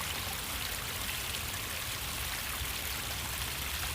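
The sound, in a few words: small artificial waterfall flowing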